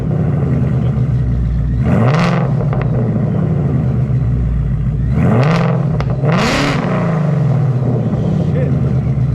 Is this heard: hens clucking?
no